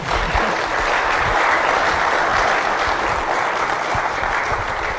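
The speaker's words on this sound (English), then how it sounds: "I might give them a quick round of applause for that" Steady, dense applause from a lecture audience fills the room for several seconds at an even loudness, with no talk over it.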